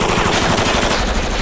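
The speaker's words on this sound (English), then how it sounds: "I'm gonna let you fire this fully automatic weapon at that truck remotely from your computer" Sustained, dense burst of fully automatic gunfire, a loud continuous stream of rapid shots filling the whole moment with no voices.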